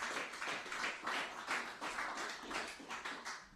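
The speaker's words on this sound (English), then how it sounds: "So we give him a round of applause" A small audience claps in a round of applause, fairly quiet and somewhat distant, with a pulsing, uneven rhythm of claps over a few seconds.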